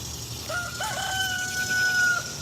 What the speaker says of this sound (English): Why don't you get that young rooster to crow?